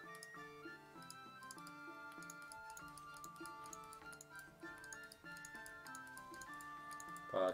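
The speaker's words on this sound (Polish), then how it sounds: "I tak słyszycie tą myszkę w tle." Sharp clicks from a computer mouse tap in quick, irregular bursts during a League of Legends match, faint under steady game music.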